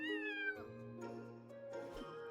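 A cat meowing in the video game Starsand Island, a clear drawn-out meow followed by a few shorter, softer mews, close and distinct against quiet background music.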